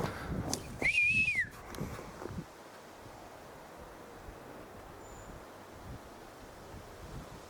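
A single short whistle from a person outdoors in a forest, a clear rising-and-falling tone over wind rumble, fairly close, followed by several seconds of quiet wind noise.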